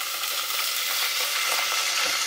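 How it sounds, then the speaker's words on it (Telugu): Water pours into a hot pot for aloo dum biryani, producing a loud, steady hissing sizzle that continues without pause, with no voices. "ఇవే వాటరు ఇలా పోసేస్తున్నాం"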